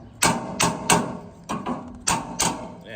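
Six sharp, evenly spaced metallic strikes ring out close by as an improvised hammer knocks at rusty tractor carburetor bolts, each blow clear and separate with no talk.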